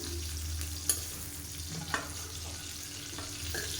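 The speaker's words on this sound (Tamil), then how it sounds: "இப்போ வந்து நம்ம வறுத்து எடுத்துக்கிறோம்" Cauliflower frying in a pan until crisp, with a steady low sizzle and occasional stirring scrapes and clinks throughout.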